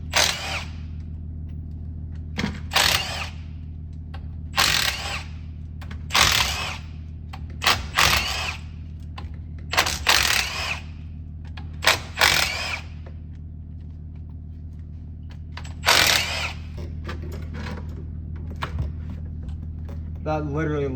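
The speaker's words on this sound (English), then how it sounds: "So I need to get this cover off and start installing the new SPE one." Tools work at the axle cover of a lowered 6.0 Power Stroke truck, giving bursts of ratcheting and power-tool whirring separated by pauses over a low steady hum.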